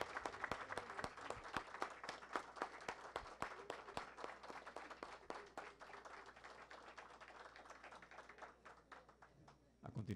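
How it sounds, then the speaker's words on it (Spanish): Applause at an official ceremony before a ribbon cutting: loud, sharp, close claps that thin out gradually, with voices murmuring underneath. "Muy bien, un aplauso, por favor."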